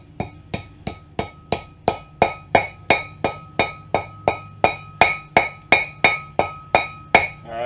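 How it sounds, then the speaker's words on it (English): Hammer tapping wheel bearing races into the front hub of a 1995 Ford F150 2WD, about twenty evenly spaced metallic strikes in a steady rhythm, close and clear with ringing overtones. "So I just kind of tap them around the edge evenly."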